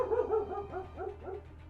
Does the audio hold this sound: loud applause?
no